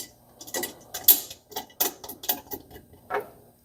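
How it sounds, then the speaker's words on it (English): Fasteners come off the support arm of a Cantek D405ANC sliding table saw, heard as a run of close, sharp metallic clicks and ratcheting ticks in an irregular rhythm, with no talking. "We're going to take the 2 fasteners out."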